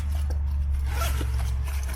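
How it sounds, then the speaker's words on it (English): Zippers on a Onewheel backpack being pulled open, a close scratchy rasp over a steady low background hum. "All the zippers are very nice."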